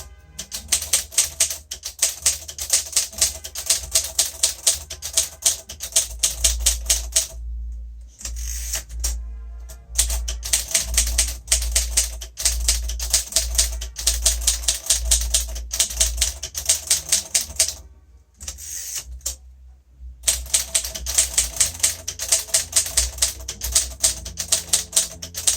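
Rapid, steady keystrokes on a 1947 Royal Quiet Deluxe manual typewriter, typed at a smooth, even rhythm. The clicks come close and loud, with brief pauses and carriage-return gaps breaking the runs.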